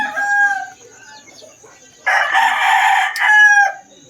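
Chickens from a game farm cluck, and a rooster crows loudly once close to the microphone, with softer clucking before and after in a quiet setting.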